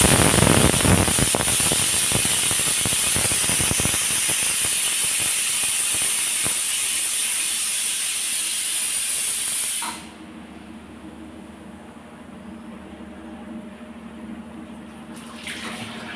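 A loud, steady rush of hissing steam with a sharp high whistle from a pressure cooker of mutton runs for about ten seconds, then cuts off abruptly to a quiet, low background.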